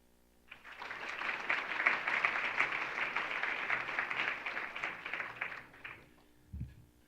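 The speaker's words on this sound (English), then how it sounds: "you should continue to applaud when I announce the new faculty" An audience at a business school dean's luncheon applauds in a dense, sustained burst of clapping lasting several seconds, then tapers off, followed by a brief low thump.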